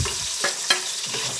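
Fried onions and chillies for aloo biryani being stirred in a pan over a loud, continuous sizzle, with a few distinct scrapes and knocks of the spoon against the metal.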